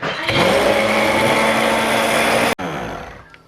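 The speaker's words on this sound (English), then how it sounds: "let's just give it a blend real quick" A countertop blender whirs loud and steady for about two and a half seconds while mixing an iced drink, then cuts off abruptly, leaving a brief fading spin-down.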